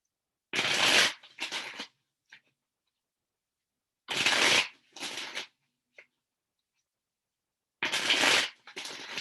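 Tarot cards being shuffled in three separate bursts, each a crisp riffle followed by a shorter second riffle and a faint tap, close and clear with silence between.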